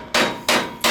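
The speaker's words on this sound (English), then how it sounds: "But what's fun is watching Zach knock these rivets out." Three loud, ringing hammer blows strike rivets on a Chevy C10 frame bracket, evenly spaced about a third of a second apart, each sharp metallic crack decaying before the next.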